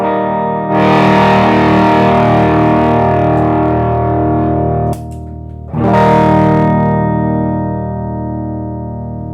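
An ARTIST TC59 string-through electric guitar, played through a distorted effect, holds a loud note that sustains and slowly fades. A brief dip interrupts it partway, then it rings on again.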